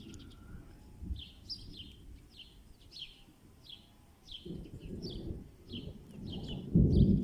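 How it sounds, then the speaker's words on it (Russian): Low rumbling thunder rolls through a summer thunderstorm, swelling in several deep bursts, loudest near the end, while small birds chirp repeatedly in the background. "О, как гремит."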